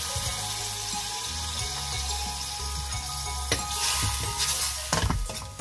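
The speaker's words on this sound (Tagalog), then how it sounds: "Palagyan lang po natin ng konting tubig dahil aantayin po natin medyo lumambot yung baboy" Pork simmering with a splash of water in a pan for Marikina-style lutong Macau, a steady close sizzle and bubble with a few clinks of a utensil stirring near the end.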